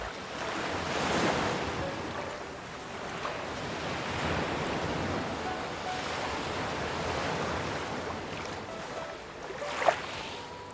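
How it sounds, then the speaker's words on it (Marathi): Waves wash onto a quiet Konkan beach in slow, rolling surges under a steady, breezy wind, one closer break rising near the end. "लाटांचा मधुर आवाज कानात साठवत हे थंडगार वारे आम्ही पित बसलो"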